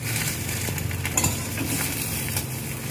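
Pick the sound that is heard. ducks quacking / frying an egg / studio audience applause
frying an egg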